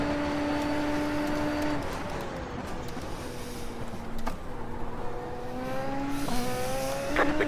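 Race car engine on track in the F1 24 video game, a steady high-pitched whine that drops and climbs through gear shifts, loud and continuous without any talk.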